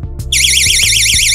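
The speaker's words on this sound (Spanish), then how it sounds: "Cuando empieza a flotar, sonará la alarma." A boat's bilge float switch alarm goes off, a loud continuous warbling electronic tone that starts abruptly and holds steady, with faint low knocks and handling noise underneath.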